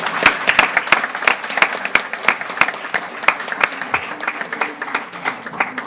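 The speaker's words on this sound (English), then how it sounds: "can we give her a round of applause?" Audience at a school board meeting giving a round of applause: a mid-sized crowd claps steadily, with sharp individual claps standing out near the front, no talk.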